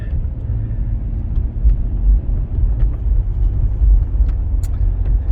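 Interior of a 1995 Cadillac Fleetwood Brougham driving over a bumpy road, a heavy low rumble of tires and suspension with occasional soft thumps and creaks, steady and close, no voices.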